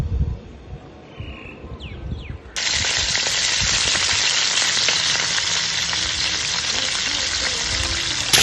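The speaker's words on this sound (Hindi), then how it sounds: "अब थोड़ा सा ऑयल ले लेंगे और उसको पैन में चढ़ा के तो चिकन को थोड़ा सा गोल्डन ब्राउन कर लेंगे इसमें।" Chicken pieces frying golden brown in oil in a pan, a steady loud hiss that jumps in suddenly after a quieter opening of faint kitchen noise and continues unbroken to the end.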